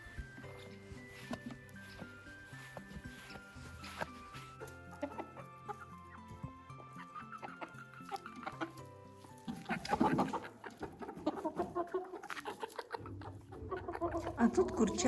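Chickens cluck steadily in a village yard in winter, close and fairly busy, with scattered calls from several birds over a low background that thickens toward the end.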